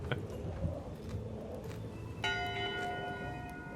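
A single ship's bell strikes once aboard a pirate ship in Return to Monkey Island, its bright ringing tone sustaining and slowly fading over low background ambience.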